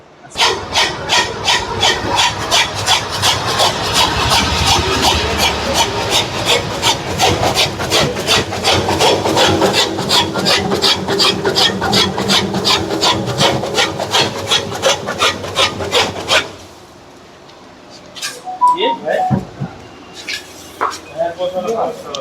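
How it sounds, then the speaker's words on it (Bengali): An Indian BK 21 chaff cutter machine chopping grass and straw, a loud rapid rhythmic chopping and rasping that runs steadily then cuts off, leaving quieter clunks and handling noises, with voices talking. "এখন আপনাকে মেশিনটার পারফরমেন্স দেখানো হবে যে মেশিনটা কেমন কাটিং করে"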